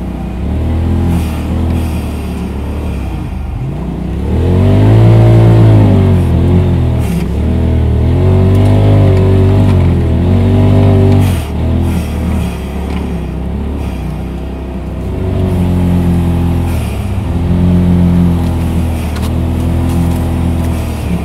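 Polaris RZR side-by-sides, including an XP 1000, a Turbo and a 900S, driving on an off-road trail. Engines drone and rev continuously, swelling and easing through repeated throttle changes at close range, with no talking.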